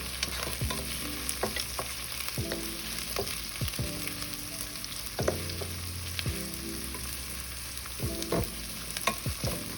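Onions and green chillies fry in a pan for a Tamil Nadu style mutton curry, with steady sizzling and repeated scraping stir strokes and utensil taps, no voices.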